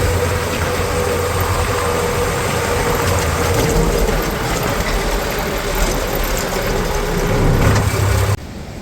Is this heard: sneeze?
no